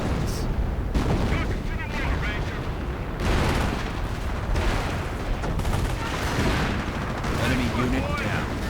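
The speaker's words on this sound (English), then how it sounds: "Artillery getting called down." Artillery barrage in a real-time strategy game: dense, continuous booms and crashing explosions overlap with rattling small-arms fire, a thick wall of battle noise that keeps going and never drops away, with a voice talking over it.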